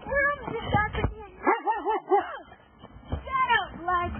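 Dogs bark and yip in a home in 1997, several short sharp barks and a couple of rising whimpering yelps in uneven bursts, close and fairly loud, with people talking around them.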